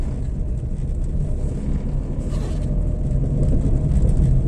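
Continuous road traffic rumble along the Mumbai Goa highway service road, with engine and tyre noise heard steadily up close from a moving vehicle, no voices.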